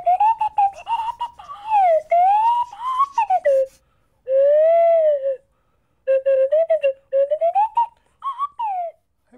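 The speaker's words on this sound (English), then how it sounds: "when they hear that swanny whistle" A swanee whistle used for Major Clanger's voice, played in a low register, gives a run of sliding, wavering tones in distinct phrases separated by short pauses, loud and close with no other sound.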